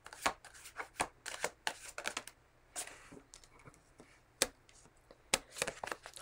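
Tarot cards being shuffled by hand, a series of quick crisp riffling and slapping bursts at an irregular rhythm, close and fairly quiet, with no talk.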